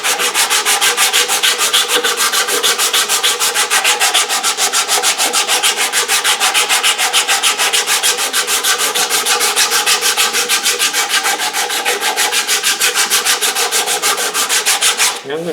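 A guitar neck being hand carved with a dragon file and a Japanese rasp makes rapid, rhythmic rasping strokes, close and loud, repeating steadily without pause.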